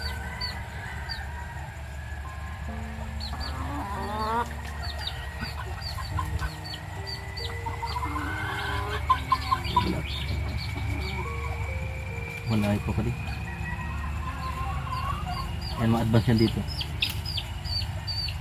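Chickens cluck and a rooster calls repeatedly nearby over a steady farmyard hum, while people talk quietly in the background.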